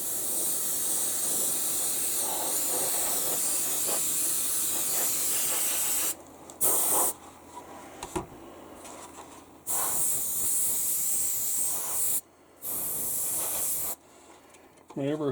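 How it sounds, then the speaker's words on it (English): Bursts of steady airbrush spray hiss at about 10 to 12 psi, spraying metal primer and paint, starting and stopping several times, close and fairly loud, with short quiet gaps between passes. "My airbrush is sitting at about 10 to 12 psi for this."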